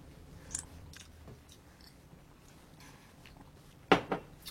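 Mints crunched and chewed during a taste test, heard as soft close-up mouth clicks and scattered crunches with a sharper pair of bites near the end, no talking.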